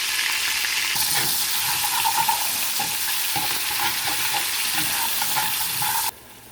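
Ground beef browning in a pan for queso nachos, a loud continuous sizzle with occasional stirring scrapes, close up, and the sound cutting off abruptly near the end.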